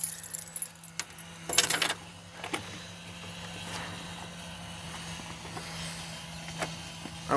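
Keys jangle close by as a key is squeezed into place near a homemade mud runner mower seat, a few short metallic rattles early on, then a quiet engine hum with faint clicks.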